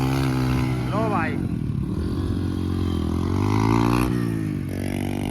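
A Hero Honda Splendor motorcycle pushes along an off-road track, its engine droning steadily and close, with a revving surge near the end and scraping clatter mixed in. People talk over it throughout.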